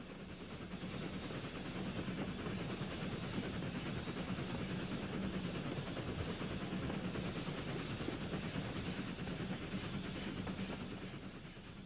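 A train runs along a coastal railway line beside a golf course and estuary, a continuous loud rumbling roar that holds steady for about twelve seconds with no voices.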